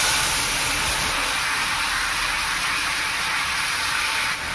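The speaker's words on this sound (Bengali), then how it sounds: "এখানে একটা ফ্রাই প্যান বসিয়ে দিয়েছি। এবার আমি দিয়ে দেবো একটু পানি।" Water splashed into a very hot frying pan while cooking chicken kulcha without oil makes a loud, steady hiss of steam that runs continuously close by and cuts off sharply at the end.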